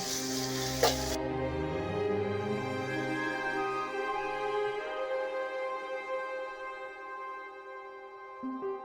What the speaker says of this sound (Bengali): চার 5 মিনিট এটা আমি ভাজতে থাকবো। এটা কিন্তু লো ফ্লেমে ভাজতে হবে।